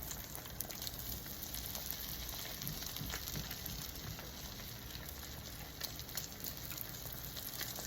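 A spinach omelette fries in a pan, giving a steady, dense sizzle that holds at an even level throughout with no voices.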